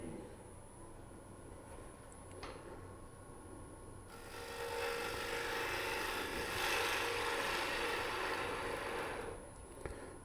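Wooden wig stand spinning on a wood lathe while a tool cuts it, a steady rough scraping that grows louder and broader midway and holds there to the end, with no voices.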